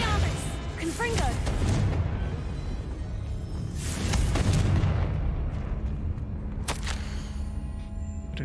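Confringo blasting spell fired in the Hogwarts Legacy video game, loud booming bursts with crackling impacts and debris over a dense game soundtrack, several blasts spread across the stretch, with a voice in the mix.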